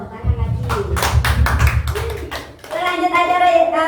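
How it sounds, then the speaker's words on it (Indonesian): A school group of students claps in a quick burst of rhythmic applause, close and loud, with talking voices picking up over the tail end. "Tepuk tangan lagi."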